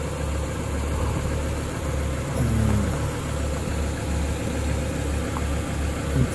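A 1994 Acura Vigor idles steadily after its exhaust S-pipe and resonator were repaired, a low, even engine hum with a constant rumble, close by and without speech.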